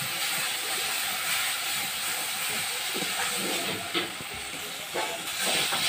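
Ginger and garlic paste sizzles in a hot pan while fish is being cooked, producing a steady, fairly loud frying hiss with small crackles throughout.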